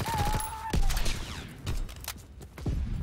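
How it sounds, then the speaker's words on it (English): Rapid bursts of gunfire in Call of Duty: WW2, sharp cracks in quick clusters with a brief whistling tone early on, loud and close. "bullets, bullets behind me, bullets in front of me, bullets."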